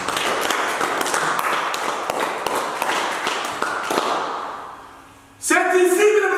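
Dense, steady clapping from a church congregation fills the room for several seconds, fading toward the end before a sung or spoken voice rises over it.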